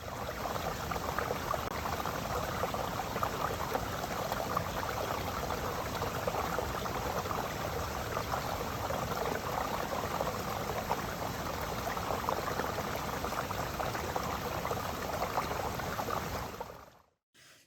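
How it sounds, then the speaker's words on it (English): A small brook rushes and gurgles in winter, a steady, dense wash of flowing water heard close and unbroken for over fifteen seconds before cutting off abruptly. "the sound is gentle and gurgling, and we're going to play you the sound of that little brook in winter."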